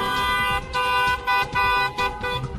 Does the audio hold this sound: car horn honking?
yes